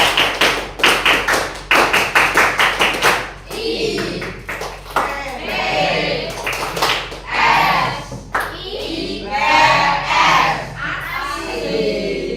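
A school classroom of students performs a rhythmic clapping chant, with a fast run of sharp, loud claps at the start, followed by group chanting voices and scattered claps.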